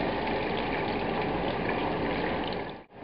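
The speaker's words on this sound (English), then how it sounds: "Now we add the water to this." Water pours steadily into a pot for lamb broth, a continuous loud gushing splash that runs for about three seconds before cutting off abruptly, with no talking.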